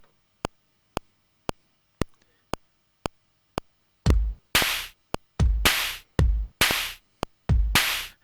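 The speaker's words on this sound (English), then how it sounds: "press play. There should be a metronome." Steady metronome clicks from an RSF SD140 sampling drum machine tick at an even pace, then loud drum-machine hits and noisy bursts join in, playing over the continuing click.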